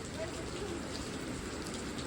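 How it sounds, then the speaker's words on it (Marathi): Steady rain patters on a surface, a continuous even hiss throughout the short stretch. "पण पाऊस आलाय"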